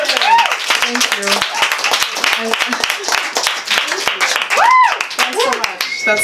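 An audience claps after a poetry reading, with a dense burst of handclaps running under and between a speaker's voice.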